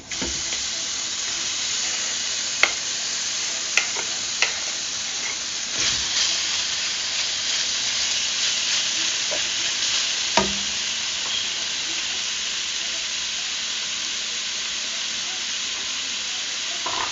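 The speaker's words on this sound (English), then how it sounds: "We're going to saute the bacon for a few minutes until it's brown, until it starts to brown." Sliced bacon sizzles in a large pot over medium-high heat with a steady, hissing crackle throughout, and a few sharp clinks and scrapes of stirring stand out.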